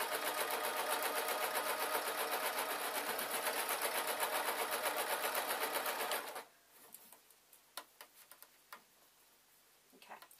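A sewing machine runs continuously for about six seconds, a fast close rhythmic stitching through a fabric bag seam, then stops, leaving scattered handling clicks.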